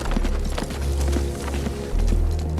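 A horse being ridden, its hooves clip-clopping in a steady rhythm, close and loud, over a low rumbling background.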